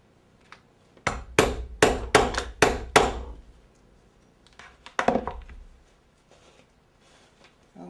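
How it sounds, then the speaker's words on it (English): A metal rivet is hammered into a leather sandal strap: six sharp, close hammer blows in quick rhythm, a pause, then two or three more strikes, with quiet stretches between and no talk. "So I'm going to make a rivet right there to hold that piece in place."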